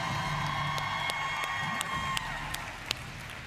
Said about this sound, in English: Another round of applause for Brittney Mettke Powers.